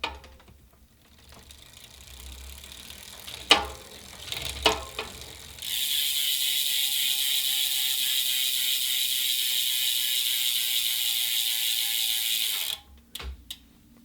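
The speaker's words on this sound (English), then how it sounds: "Freehub sound test on the Zipp 303S wheel set." A Zipp 303S bicycle wheel's freehub ratchet: a few separate clicks, then a loud, steady, close buzzing rattle of the pawls as the wheel coasts for about seven seconds before stopping abruptly.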